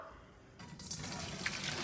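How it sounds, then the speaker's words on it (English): Pasta cooking water pours out into a kitchen sink, a steady broadband rush of splashing liquid starting abruptly and continuing loud and close with no talk over it. "So now she's going to dump out the water."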